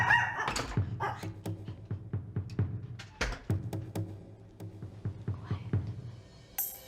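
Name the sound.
dog barking as someone enters the door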